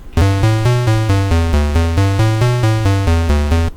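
Buzzy 8-bit synthesized tones made in Audacity with a fade envelope, a melody of about a dozen notes where each one starts loud and decays quickly before the next, giving a bouncy, pulsing rhythm.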